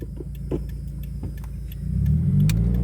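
A Subaru WRX engine hums low and steady at first, then swells into a heavier rumble as it accelerates through first gear, heard from inside the car.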